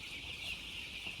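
Chickens cluck continuously in a cheap poultry farm building, a dense steady chorus of many birds heard up close with no talk over it.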